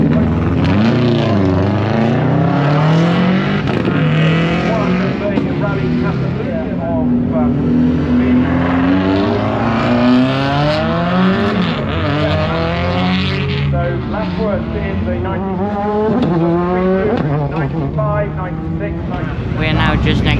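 Classic race cars at the Shelsley Walsh hill climb start line rev loudly and pull away with rising, gear-changing engine notes, one after another. The engines fill the scene for the whole stretch.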